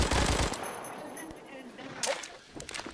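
A rapid burst of video-game gunfire crackles loudly for half a second, then scattered fainter shots and echoes follow.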